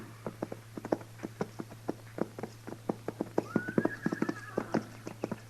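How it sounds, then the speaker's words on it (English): Horses' hooves clip-clop at a steady walking pace in a radio drama, crisp close hoof strikes with a horse's whinny partway through, over a constant low hum. "Mr. Dillon, what do you figure them horses are doing down there?"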